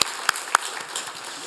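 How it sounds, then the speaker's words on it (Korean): Applause from a church congregation during a Sunday service, a few sharp early claps blending into a continuous, moderately loud wash of clapping. "우리 축복하고 격려하는 박수 한번 치겠습니다"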